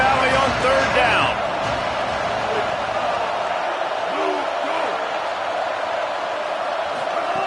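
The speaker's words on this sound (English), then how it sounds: "Here comes the noise from this big crowd in Happy Valley on 3rd down." Stadium crowd roars through a third-down play at Penn State's Happy Valley in a college football video game, a dense, steady wall of noise that stays loud from start to finish, with faint voices and shouts inside it.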